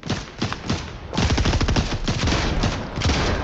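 Rapid bursts of automatic gunfire in a Fortnite match, loud and close, stopping briefly and then resuming as a sustained stream of shots.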